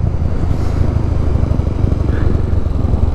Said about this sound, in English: my idle's really low